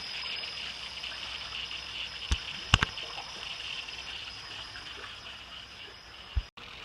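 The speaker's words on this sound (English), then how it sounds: "water's going into the pool." Water from a solenoid valve flows into a swimming pool in a steady, even hiss, with a few sharp clicks and knocks near the valve and no speech.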